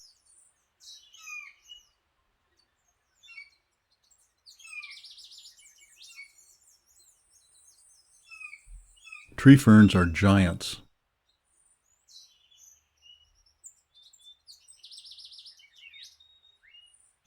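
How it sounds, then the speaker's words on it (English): Scattered tropical forest bird chirps and calls at a distance in Costa Rica, sparse and intermittent, with a brief burst of speech in the middle. "We hear more birds than we see."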